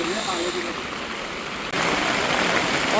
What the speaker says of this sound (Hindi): क्योंकि बहुत तेज़ बारिश हो रही है।